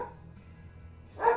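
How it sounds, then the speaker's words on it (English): Dogs barking in the background, a brief distant bark at the start and a louder close bark at the end, with a quiet pause between. "There are dogs barking behind me."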